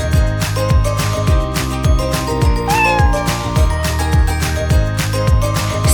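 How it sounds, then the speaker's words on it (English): Cat meows over light instrumental background music in a children's letter-drawing lesson, one or two short rising mewing calls near the middle, with no talking. "C for cat."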